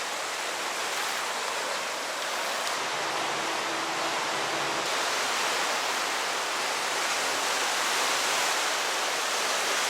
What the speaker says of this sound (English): It's weird to see a river like this flowing with such power.